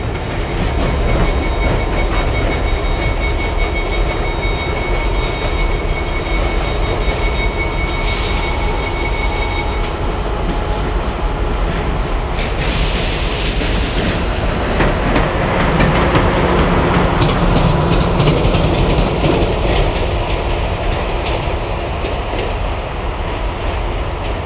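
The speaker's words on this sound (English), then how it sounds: "E60 electric locomotive number 602 is backing down to its train." Amtrak E60 electric locomotive number 602 backing down onto its train at Washington Union Station, loud and close, with steady rolling rumble, wheel clatter and squeal, faint high whines early on, continuous throughout.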